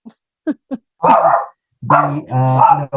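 A small dog barks several times nearby: short sharp yaps, then longer, whiny, drawn-out barks and howls.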